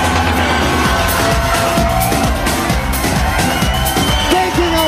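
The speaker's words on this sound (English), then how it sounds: "Give a round of applause." An audience at a live show in Gold Reef City cheers and whoops with crowd noise loud and continuous throughout, dense and steady without breaks.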